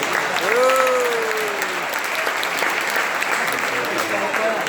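Applause from a crowd at a school alumni meet keeps a steady wash of clapping going for several seconds, while a voice speaks over the start and a brief tonal sound rises above it.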